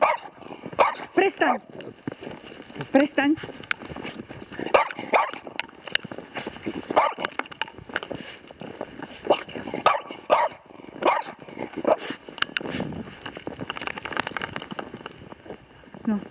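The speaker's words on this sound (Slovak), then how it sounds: "Vidíš, ako šteká?" A small dog barks repeatedly outdoors in snowy weather, short sharp barks recurring throughout over a voice as she talks to it.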